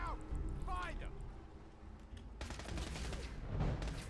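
Radium rifle fire in the Fallout 4 video game: a sharp burst of several shots lands midway, followed by a rapid, loud volley of gunfire near the end, with in-game noise beneath.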